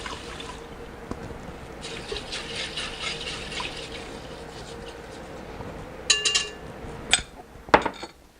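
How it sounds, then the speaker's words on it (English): Fried rice broth poured into dry rice, a faint trickle of liquid for several seconds, followed by a few clinks and knocks of a pot or lid near the end. "next we're going to go ahead and add what I call our fried rice broth"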